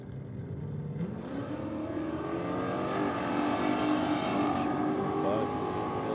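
A Holden one-tonner Ute drag racing an LC Torana at the strip, with loud, sustained engine roar rising as the cars accelerate and a crowd or commentary murmur underneath.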